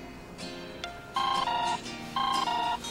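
A phone rings with an incoming call in a Korean drama scene, electronic ringtone bursts repeating in two pulses over quiet room tone, no talking over it.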